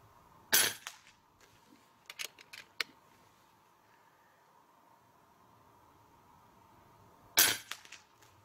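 Two sharp air rifle reports from an FX Boss .30 caliber (7.62) PCP rifle, each a crisp crack followed by a quick pellet impact on the target, spaced several seconds apart in a quiet outdoor setting.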